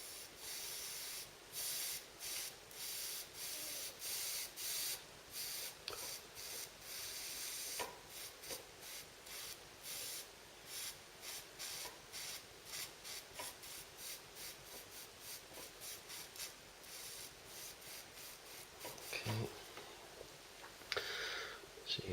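A cotton bud is rubbed back and forth across a knife blade during etching, giving quiet, rhythmic scratchy strokes in short bursts that repeat evenly throughout.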